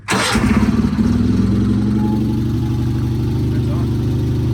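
A tractor engine cranks and catches, then settles into a steady, loud, close idle with a low rumble that runs unchanged to the end.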